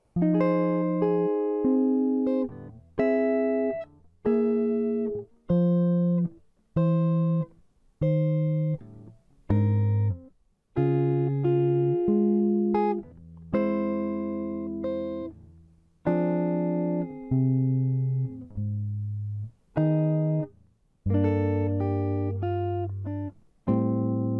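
Fingerstyle guitar plays measures 25-32 of a song, clear plucked chords and single notes in short phrases with gaps between them, close and unaccompanied.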